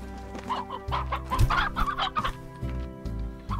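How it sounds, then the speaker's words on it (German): Chickens and a rooster in the video game Slime Rancher give repeated loud close clucks and short squawks in an uneven rhythm over a low steady hum. "Als erstes schaffen wir den Gockel zu den Hühnern."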